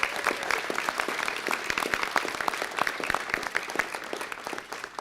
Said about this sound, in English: Let's give No-No a round of applause